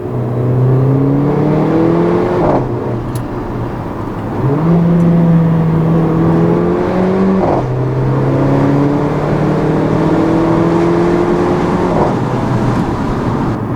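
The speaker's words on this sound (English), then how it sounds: "The car sounds amazing. I love how it sounds." A 2015 Mercedes-Benz GLA 45 AMG engine revs up repeatedly, rising in pitch through gears with brief drops between shifts, loud and close with a steady throaty roar.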